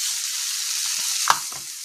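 Onions in a tablespoon of olive oil sizzle steadily in a hot pan, a close, even hiss with a single sharp pop or utensil tap near the end.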